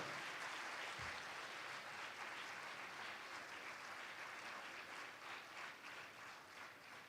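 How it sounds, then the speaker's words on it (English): Sustained audience applause fills the hall at a conference opening ceremony, a steady dense wash of clapping that holds for several seconds and tapers only slightly toward the end, with no voice over it. "So, clap to the young people for yourself."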